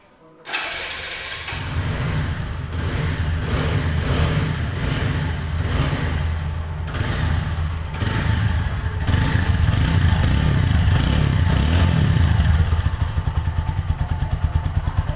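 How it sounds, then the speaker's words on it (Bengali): A TVS Apache 4V motorcycle starts and runs close by. The engine rumbles steadily and rises in several revs before settling into a pulsing idle, loud throughout, with a voice faintly underneath. "বাইকটির সাউন্ড কোয়ালিটি কেমন আছে।"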